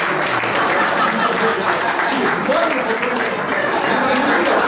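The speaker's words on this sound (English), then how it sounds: "Big round of applause." An audience at a magic show bursts into loud, dense applause that carries on steadily, with a performer's voice heard over the clapping.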